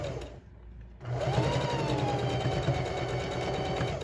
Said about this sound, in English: we're just going to do a little edge stitching